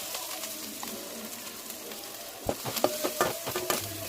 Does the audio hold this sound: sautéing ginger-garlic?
yes